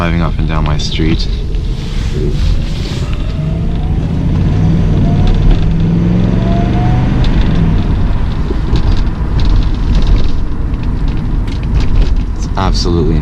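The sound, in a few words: 1984 Mercedes-Benz 380SL R107 driving down a street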